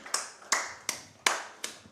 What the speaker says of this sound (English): So he gets a good clap, he does.